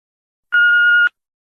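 A single steady electronic answering machine beep, loud and clean, sounding for about half a second after silence, with nothing else around it.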